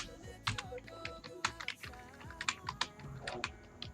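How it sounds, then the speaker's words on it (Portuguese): Fingers hammer hard on a worn, poor-quality computer keyboard, a close, dense run of sharp uneven clacks with faint background hum. "na hora que vocês ouvirem o vídeo, vocês vão ouvir eu quase martelando ele aqui, de tão ruim que tá as teclas."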